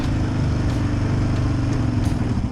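Yamaha Raptor 700R ATV engine running steadily up close in third gear, a loud throbbing single-cylinder drone with no speech.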